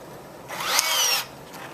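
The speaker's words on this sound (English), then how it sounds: "you'll take and drill your holes" A power drill with a 1/4-inch bit bores holes into a wall for dispenser anchors, a single short whirring burst rising in pitch, heard nearby with no talking.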